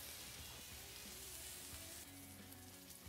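Steak sizzles on a Blackstone griddle, a dense, steady crackle and hiss that stays faint and constant with no voices over it.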